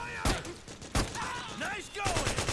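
Gunfire in the video game Metal Gear Solid 4, two loud close shots followed by shorter bursts and rattling fire, with game sounds and voices mixed in underneath.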